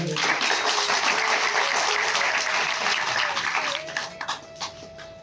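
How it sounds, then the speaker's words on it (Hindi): Loud, steady audience applause fills a devotional spiritual gathering, a dense wash of many clapping hands that thins into a few scattered claps near the end. "तो जोरदार ताली बजाइए।"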